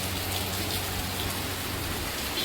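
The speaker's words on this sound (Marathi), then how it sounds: "थोडक्यासाठी येता आणि भिजवून जाता असं पाऊस आपल्या इकडचो" Rain falls steadily in the Konkan countryside, a soft continuous hiss of drops hitting surfaces, even and unbroken throughout with no voices.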